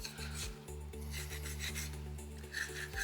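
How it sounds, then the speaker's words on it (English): Rasp filing a soapstone owl carving, a close, continuous gritty scraping in quick repeated strokes over a steady low hum. "Using the edge of my rasp right now to create a nice neckline here on my carving"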